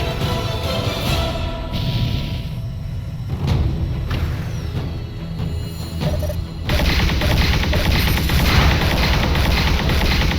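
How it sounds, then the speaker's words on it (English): Spacefighter main guns firing in FreeSpace 2 (Blue Planet campaign), a continuous barrage of rapid energy shots over a low engine rumble, growing louder and denser in the final few seconds. "Engaging with main guns."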